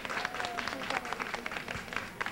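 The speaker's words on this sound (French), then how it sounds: "Je vais demander à tout le monde d'applaudir notre pays" Applause for Côte d'Ivoire at a New York anniversary celebration, steady crowd clapping with scattered voices mixed in, sustained and moderately loud throughout.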